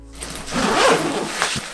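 A zipper is pulled open along the back compartment of a camera backpack, giving a steady, close rasping run of just under two seconds with no talk.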